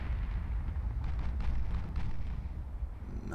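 Naval gun salvo in the warship game Ultimate Admiral Dreadnoughts, a low rumbling boom that rolls on for several seconds without sharp separate shots, with no talk.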